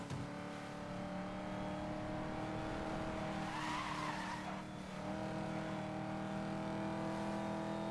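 A car engine in Need for Speed: Most Wanted drones steadily while tires squeal and skid in a sweeping burst midway.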